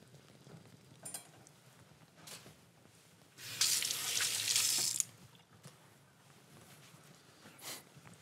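A kitchen tap runs in a short burst of about a second and a half while a chopping board is cleaned down, with quiet handling noises before and after.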